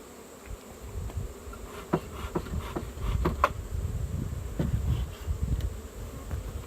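Dense, steady buzzing of many honey bees close by at an open hive during inspection, a continuous droning swarm with occasional soft knocks.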